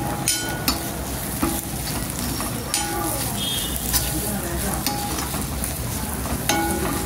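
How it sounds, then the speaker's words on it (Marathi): Masala spiced with Kashmiri and Malvani chilli powders roasts in oil on a tawa for prawn fry, giving a steady close sizzle with repeated stirring scrapes throughout. "आता चांगलं भाजून घेऊया याला"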